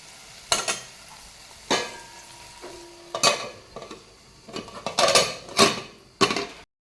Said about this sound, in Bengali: এখন রাত্রের জন্য একটু ভেন্ডি বাটা ভেন্ডি ভাজা করে নিচ্ছি